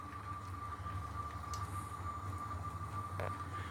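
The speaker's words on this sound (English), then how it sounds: "Locomotive's running around." A model train locomotive runs steadily, pushing its carriages around a layout in a shed, giving a continuous low rumble with a sustained tonal whine and a few faint clicks, close by and with no talking.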